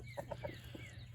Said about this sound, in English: There's a big Jubilee Orpington rooster. There's another one, another Wyandotte hen.